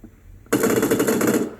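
Automatic gunfire in the battle royale game PUBG erupts suddenly as a loud, dense burst of rapid shots lasting about a second after a brief quiet lead-in.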